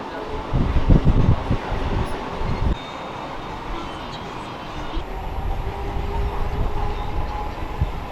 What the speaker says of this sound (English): just like a local would on an open door train.